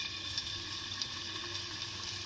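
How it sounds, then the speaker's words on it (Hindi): Hot oil sizzles steadily in a pan for frying chicken for mini pizza, a close, continuous hiss with faint crackles and no talking. "अब हम चिकन फ्राई कर लेंगे। फ्राई करने के लिए अब पैन में ऑयल डालेंगे।"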